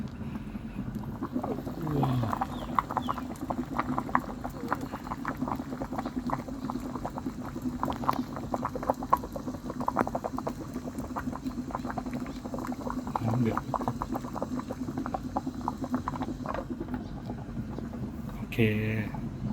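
A pot of Isan-style shrimp dish, u-chom kung, boils with a dense, steady bubbling and crackle close by, while a voice talks at times over it.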